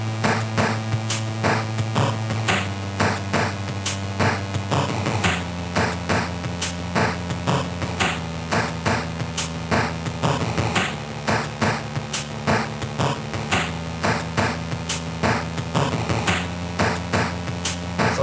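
A Game Boy-style chiptune melody transposed up an octave, bright square-wave notes bouncing in a quick steady rhythm over a buzzy bass line, looping evenly with no voices.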